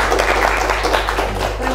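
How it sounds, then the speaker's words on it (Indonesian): An audience at an indoor talk-show event with a district police chief claps steadily for about two seconds, a dense, continuous wash of applause. "boleh berikan tepuk tangan dulu dong buat teman-teman"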